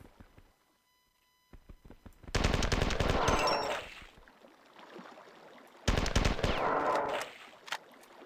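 Rapid automatic weapon fire in the shooter game Marathon 2, heard as two loud sustained bursts separated by a short pause, each ending in a fading echo.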